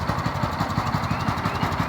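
A small pull-start engine, choke applied and throttle down, runs with a rapid, steady chugging pulse, close and loud throughout with no voices.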